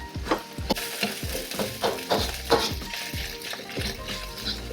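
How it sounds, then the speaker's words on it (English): Rice for Thai-style salt fish fried rice sizzles in a hot pan while a utensil scrapes and stirs it in quick, repeated strokes. "I've been frying this rice for about 2 minutes."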